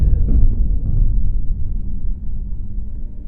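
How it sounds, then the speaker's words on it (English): Low, rolling thunder rumbles steadily in the video game Cloud Climber, a deep sustained roll that slowly fades without other sounds on top. "It's thunder."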